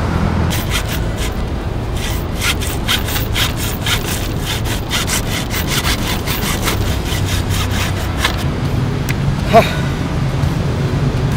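A motorcycle seat being cut down by hand, steady rhythmic back-and-forth sawing or rasping strokes, loud and close throughout, without speech.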